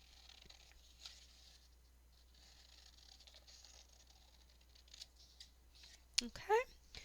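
Scissors snip through fabric strips in a few short, crisp cuts near the end, heard close up after a quiet stretch of faint rustling.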